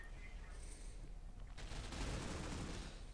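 Video game shooter gunfire, a dense burst of shots kicking in partway through over a murky noisy bed, with faint talk in the background.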